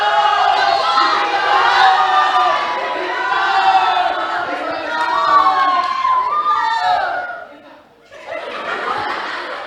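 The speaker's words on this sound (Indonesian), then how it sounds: "Bangsa Israel pun menang dan Daud pun dieluh-eluhkan" Children in a school play about David and Goliath cheer, laugh and shout together loudly and continuously, with a brief dip before the crowd noise rises again.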